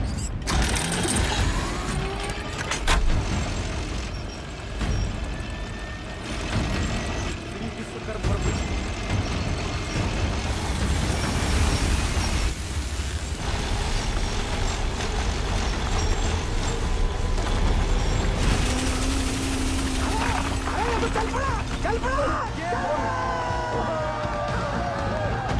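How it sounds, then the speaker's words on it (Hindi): An improvised machine with a 12-inch blade cuts into the ground in a Hindi action film scene, giving off a continuous loud grinding and ratcheting mechanical clatter with gear-like rattles. Voices speak over the noise near the end. "जिस तरह ये ब्लेड जमीन को काट रहा है, 150 फीट तो मक्खन की तरह हो जाएगा।"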